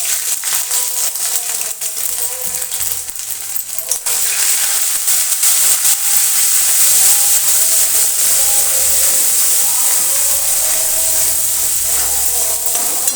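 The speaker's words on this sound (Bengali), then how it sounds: "গোটা এলাচ, 5 ফোড়ন, তেজপাতা দিয়ে দেব তেলের মধ্যে।" Whole cardamom, panch phoron and bay leaves dropped into hot oil for potato dum: a bright, continuous hissing sizzle that swells and stays loud after a few seconds of clattering, with no talking.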